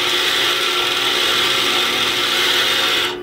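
Old wire-feed welding machine with an inconsistent wire feed, giving a steady, loud crackling buzz close up for about three seconds before cutting off abruptly at the end, with no talking.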